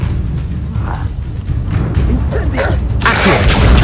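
Incendio fire spell cast in Hogwarts Legacy, heard as a loud, rushing burst of flame that swells near the end over a busy, rumbling mix of game sounds.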